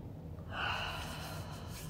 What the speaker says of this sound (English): you're gonna cup. Take a few big deep breaths in.